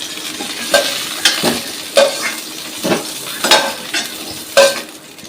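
Cauliflower pieces sizzle in oil in a kadai while a spatula turns them, with loud scraping strokes and metal clinks about once a second over a continuous frying hiss.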